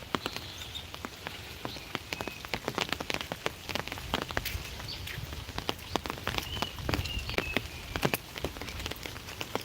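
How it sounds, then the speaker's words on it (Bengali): Rain falls outdoors under a dark, stormy sky, a dense patter of drops hitting surfaces close by, with sharp individual splats scattered throughout and no voices. "আবার বৃষ্টি পড়া শুরু হয়ে গেছে"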